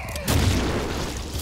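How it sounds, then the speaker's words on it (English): Grenade blast in the co-op shooter Killing Floor: a loud booming explosion swells at once and rolls on as a broad roar that slowly fades. "Grenade!"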